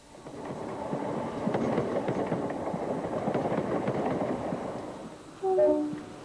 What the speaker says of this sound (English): trains like this one running between Cambridge and Peterborough